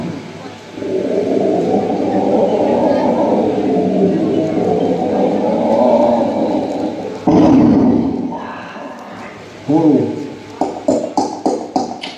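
A voice imitates a storm with a long, breathy, roaring whoosh like howling wind, followed by a few shorter gusty bursts and clicks.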